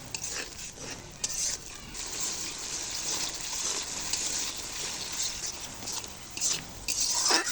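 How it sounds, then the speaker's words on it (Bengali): A little water is poured into thick masala frying in oil for potato curry, with a wet hiss and sputter, light utensil clinks and stirring scrapes close by. "এবারে সামান্য একটু পানি দিয়ে দেব"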